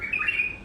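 A wild Basra bulbul gives one brief, clear whistled call, close and fairly faint, over quiet background.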